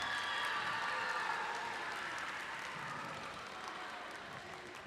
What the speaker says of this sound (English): A round of applause for our AB Honor Roll.